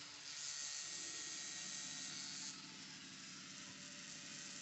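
Steady, faint buzzing hum from the small vibrating motor of a pipe-cleaner bristle bot running along a track, continuous with a slight drop in intensity partway through.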